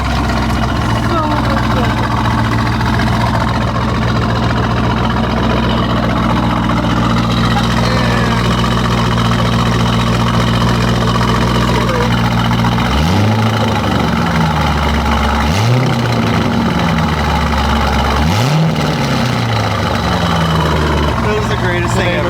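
A loud, rough Corvette engine with its mufflers cut off idles steadily throughout, with a few revving surges near the end.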